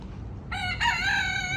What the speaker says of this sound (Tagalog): May manok dito mga boss.